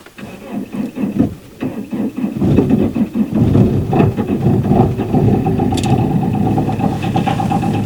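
A diesel car engine cranks a few times in about minus 20 degree cold, catches, and settles into a steady, loud, rumbling idle that continues to the end.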